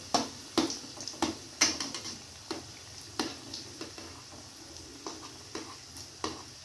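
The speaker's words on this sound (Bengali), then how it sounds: "যেহেতু আমি অল্প তেলে ভাজি" Milk pitha made from leftover roti dough fries in a little oil, giving a soft steady sizzle broken by repeated sharp ticks and small pops at an even pace.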